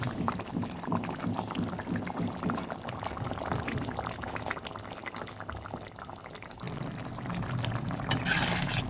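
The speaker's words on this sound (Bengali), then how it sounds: "সুন্দর ফুটে উঠেছে" A sesame katla fish curry boils in a pan with a steady close bubbling and gurgling that stays moderately loud throughout, with no talking over it.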